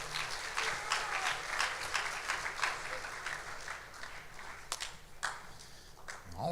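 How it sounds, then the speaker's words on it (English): A school orientation audience applauds a speaker, a dense patter of clapping from a sizable crowd at moderate distance, steady with a few louder individual claps standing out. "So let's give Mr."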